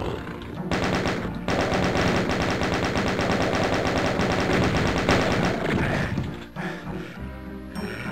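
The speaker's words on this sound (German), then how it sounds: "Irgendwo wurde wieder auf mich geschossen." Rapid machine-gun fire from the video game Doom 2 hammers steadily for several seconds, loud and continuous, then breaks off into scattered shots and game noise.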